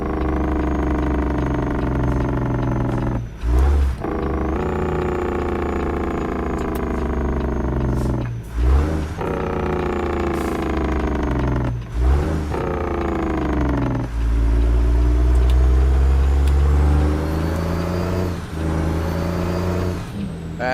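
A Peterbilt 389 truck with a modded 14-litre engine in a trucking simulator game drones loud and close, deep harmonic engine note rising through gears with several brief shift dips and a heavy low rumble later, no talk.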